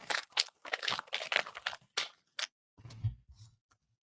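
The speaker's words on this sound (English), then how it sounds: "You can hear the paper." Crisp crinkling and scratching of paper while a name is written down by hand, several quick close rustles followed by a few softer taps and scrapes.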